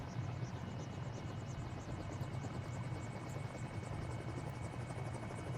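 Helicopter engine and rotor in a flight simulator game running at a steady, loud, continuous drone with a rhythmic buzzing throb, heard close and alone without talk.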